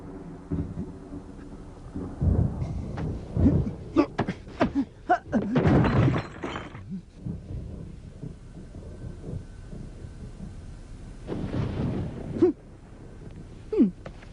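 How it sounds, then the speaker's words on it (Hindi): Thunder rumbles and cracks in heavy bursts through darkness and rain, with loud rolling peaks separated by quieter stretches, and brief speech in between. "साथ ही साथ बारिश भी हो रही है"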